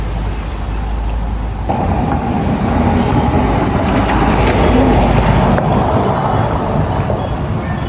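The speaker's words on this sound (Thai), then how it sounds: "อยู่ข้างถนนเสียงจะดังนะ" Steady traffic roars beside a road, a broad continuous rumble of passing vehicles that swells slightly midway, with no voices.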